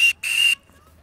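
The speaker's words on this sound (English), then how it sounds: "Another feature, which I just realized with this buoy, it has a whistle, so if you need to call for help" Two sharp, piercing blasts from a whistle built into a swim safety buoy, a short toot followed by a longer one, loud and close, with no voices.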